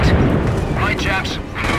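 A vehicle is destroyed in a World War II battle in Company of Heroes, a loud, deep rumbling blast that booms continuously with crackling debris and overlapping battle noise.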